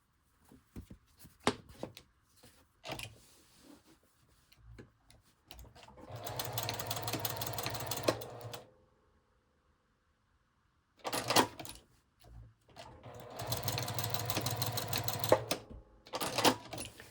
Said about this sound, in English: I just did 2 parallel lines of straight stitching across to hold it